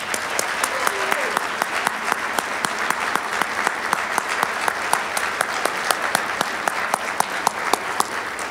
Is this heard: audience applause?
yes